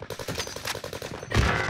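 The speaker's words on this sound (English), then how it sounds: "I just got sniped from behind." Rapid automatic gunfire in the shooter game Warzone, with an M4A1 rifle in play: a steady string of close, evenly spaced shots, then a heavier burst or impact near the end.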